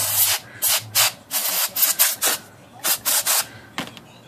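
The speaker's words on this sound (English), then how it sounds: "Blow off the excess with our canned air." Canned air blasts excess oil off typewriter type slugs in about a dozen short, sharp hissing bursts fired in quick uneven succession, close and loud with brief gaps between.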